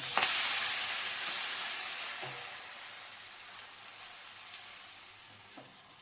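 Fresh spinach leaves hiss and sizzle as they go into hot tempering oil for a spinach onion-chilli curry, a loud steady frying sound that slowly fades, with a few soft clinks of stirring.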